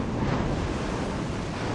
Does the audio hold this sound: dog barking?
no